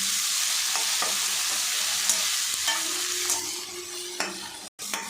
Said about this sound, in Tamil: அதில் சேர்த்துட்டு தக்காளி நல்லா சுண்டாக வதக்கிக்கலாம்.